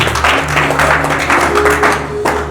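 Church congregation clapping together in a steady, continuous wash of applause during a service, with faint sustained organ or keyboard tones underneath.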